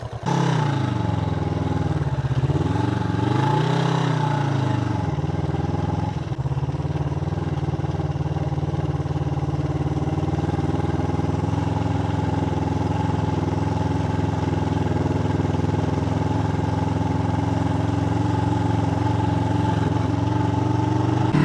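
A 1973 Yamaha TX500 motorcycle engine runs while riding, a steady mid-pitched drone that rises and falls in revs early on, then settles into a constant hum with wind noise, no voices.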